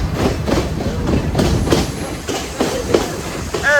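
A Sri Lankan train bound for Ella station, heard from on board as a loud continuous rumble and rattle with rhythmic clickety-clack of the wheels and a brief squeal near the end.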